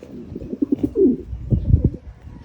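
Domestic pigeons coo in a series of soft, low, rounded notes at close range, with a few louder throaty calls later and some faint rustling between them.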